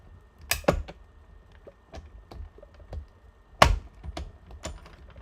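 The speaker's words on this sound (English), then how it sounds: "Now we can die cut it all the way out." A die-cutting machine cuts out paper cards at close range, giving two sharp mechanical clacks with a scatter of lighter ticks and taps between them.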